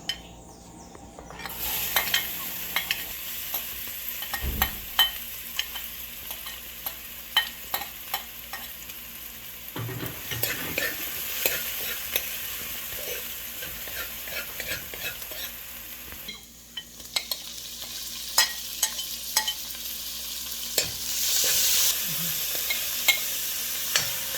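Chopped garlic, pimentos, green seasoning and onions frying in a hot pot, a steady sizzle broken by repeated scraping stirs and clinks of a utensil against the pan, close and clear with no talking.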